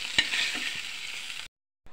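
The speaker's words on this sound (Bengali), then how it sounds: "এই জন্য মাছগুলোকে সুন্দর মতো কড়া করে ভেজে নেব।" Fish frying crisp in hot oil in a home kitchen pan, a steady close hiss and crackle with one sharp pop, running about a second and a half before stopping abruptly, then resuming briefly.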